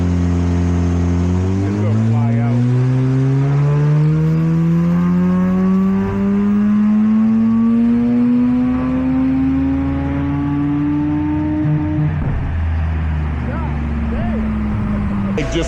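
A Mazda RX8 rotary engine screams on the Laguna Seca track, rising steadily in pitch toward a roughly 9,000 rpm shift point, loud and close throughout with a brief change near the end and talk partly over it.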